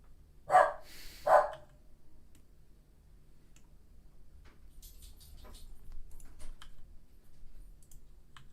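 A dog barks twice in quick succession near the start, then falls silent while faint ticking and clicking continue in a quiet room.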